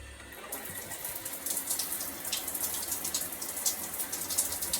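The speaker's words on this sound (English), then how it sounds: "this is about how much water was coming out when the shower is turned off." Water runs and patters steadily close by from a leaking shower that is turned off, a continuous splashing trickle with small irregular drips, no voices.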